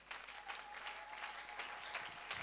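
Church congregation at a French-language worship service applauding and cheering to acclaim the Lord, a steady dense wash of clapping and voices lasting throughout without a break.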